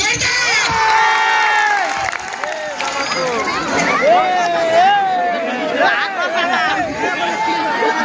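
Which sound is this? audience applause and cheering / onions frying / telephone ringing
audience applause and cheering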